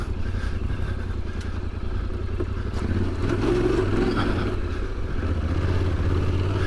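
A 2025 Yamaha Tenere 700 adventure motorcycle engine drones steadily while riding, a loud close mid-pitched thrum that swells slightly as the bike accelerates, with no talking.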